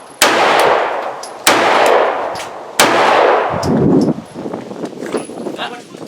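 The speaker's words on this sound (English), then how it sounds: "So, I've been shooting a couple of mags, a couple of lighter reloads, and this is even with factory ammo." A CZ P09c 9mm pistol fires three loud, sharp shots at an even pace, each crack ringing out with a short decay.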